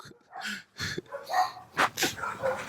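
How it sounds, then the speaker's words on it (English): A dog barks in short, close, fairly loud bursts, about five or six in quick succession with brief gaps, some sounding like yips or huffs, and no talk over them. "don't get mad at the dog. That's how he talk."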